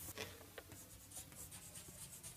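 Scratchy writing strokes on a board or paper during a lecture on mechanical systems come as quiet, close, rapid short scrapes and taps, with no talking.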